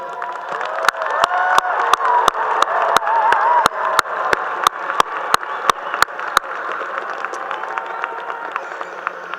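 An audience at a 2023 undergraduate commencement ceremony applauds and cheers, a dense wash of clapping with occasional whoops, loud and sustained, while sharp regular thumps cut through the first two-thirds.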